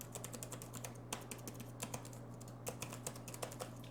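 Rapid, uneven clicking of MSI Apache Pro GE62MVR gaming laptop keys pressed in a steady flurry, close and fairly quiet, with no voices.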